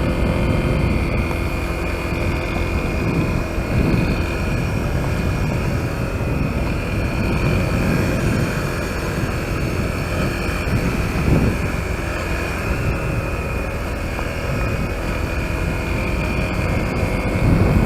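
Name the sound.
Honda CRF250L motorcycle riding in gear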